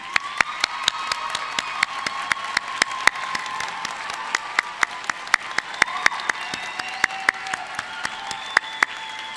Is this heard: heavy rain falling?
no